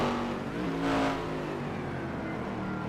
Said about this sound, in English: He's already hitting the rev chip there.